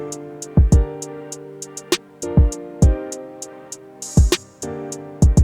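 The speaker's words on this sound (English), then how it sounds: "From there, we added a crash and then an open hat" Open hi-hat and a crash cymbal added to a produced hip-hop beat, the hats hissing in a regular pattern over deep booming kicks and snare hits, with a brighter cymbal wash near the end.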